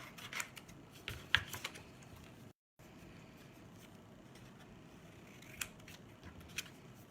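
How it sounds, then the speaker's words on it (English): Scissors cut out a shape from decorated patterned paper, giving faint, quiet snips and crisp rustles in a soft, irregular rhythm over light room noise. A brief dropout breaks the sound partway through. "I'm just going to take my scissor, and I'm gonna cut it out."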